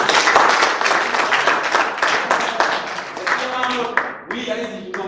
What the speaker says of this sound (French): on applaudit pour Manette.